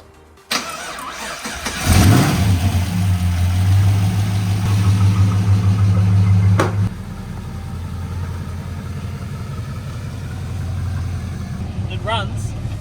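A Holden LS1 V8 car engine cranks briefly, catches and starts, then settles into a steady, loud idle that drops slightly in level partway through.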